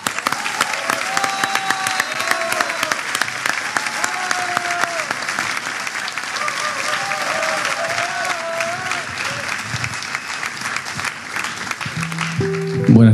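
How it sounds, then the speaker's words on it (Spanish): A crowd applauds a singer at an awards show, with loud continuous clapping and a few faint cheers or whistles; near the end a strong low tone cuts in as the applause subsides. "Recibamos con un gran aplauso"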